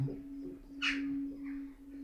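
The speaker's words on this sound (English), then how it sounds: "That's birds" A single soft pigeon call rises briefly over a steady electrical hum inside a building, faint and a little distant.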